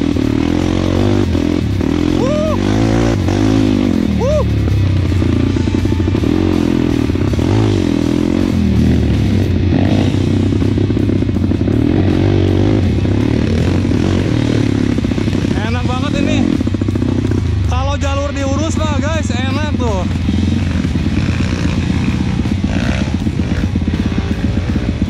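A motorcycle ridden in second gear along a slippery, muddy trail, its engine droning loud and close throughout with uneven revving, scraping and clatter as a rider talks over it.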